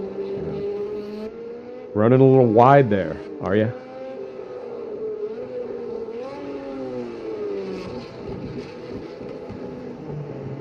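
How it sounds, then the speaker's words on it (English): A Porsche 917LH race car engine in the video game Project CARS 2 drones steadily with pitch rises and drops as it accelerates and shifts, while someone talks briefly over it. "the sound of that engine"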